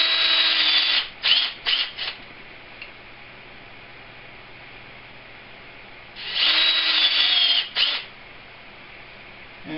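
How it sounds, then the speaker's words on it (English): A power drill bores center holes into pen blanks, two separate high whining bursts that each spin up and stop, with a few short taps in between. "And those are marked and center drilled."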